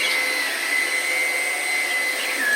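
A Hoover One Power cordless vacuum cleaner runs steadily at close range, giving a continuous high whine over an even airy rush.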